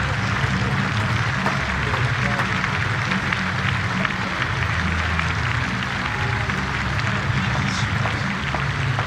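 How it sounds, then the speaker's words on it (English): A big cricket crowd at Chelmsford during a T20 Blast match between Somerset and Essex applauds in a steady, dense wash of clapping and cheering heard from a distance. "Listen to the appreciation of this big crowd here at Chelmsford."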